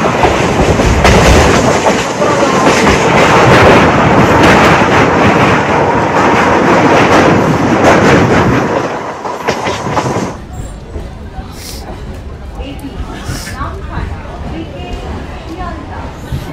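A Namkhana local passenger train out of Sealdah station runs with a loud, close rumbling clatter of wheels and carriages, then the noise drops abruptly to a quieter, steady interior rumble.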